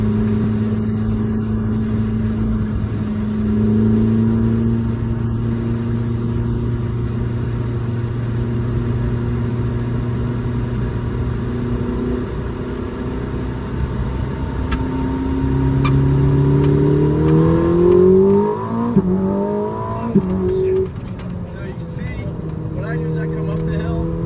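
A Ferrari 849 Testarossa accelerates around Sonoma Raceway, its engine a loud steady drone heard from inside the car that climbs and shifts pitch through gear changes toward the end.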